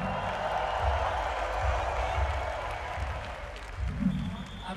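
A crowd at a breakdance final cheers and claps in a steady, moderately loud wash of noise, with an announcer's voice heard over it.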